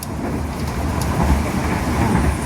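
Train running straight through Kelari station, heard from on board as a steady dense rumble and rushing noise with faint rattles, loud and continuous, without speech.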